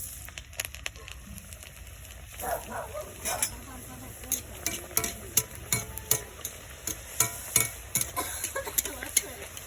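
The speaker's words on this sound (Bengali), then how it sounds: "বন্ধুরা তেল ভালো মতন গরম হয়ে গেছে, এবার আমি পিঠাগুলো ছেড়ে দেবো" Spicy pitha cakes hit hot oil and fry with a bubbling sizzle, punctuated by a quick series of crisp taps and clicks from the pan and utensil, close and moderately loud, with a muffled voice briefly early on.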